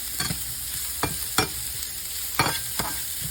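Spinach goes into onions already frying in a skillet, with a steady bright sizzle and a few sharp scraping stirs. It is close and moderately loud, with no voices.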